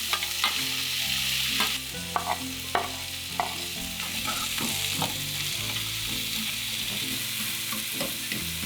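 Napa cabbage and maitake mushrooms stir-fry in a pan with a continuous close sizzle, broken by repeated light clacks and scrapes of a utensil tossing the vegetables, no voices.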